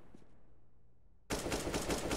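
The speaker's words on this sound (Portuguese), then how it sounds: "tentou os disparos, mas tá aí o Insane pra finalizar" Rapid automatic gunfire bursts in suddenly in the video game Counter-Strike: Global Offensive during a professional match, loud and sustained after a short quiet lead-in.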